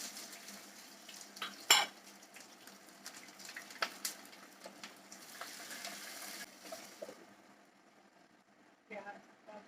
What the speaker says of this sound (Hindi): प्याज डाल दिया।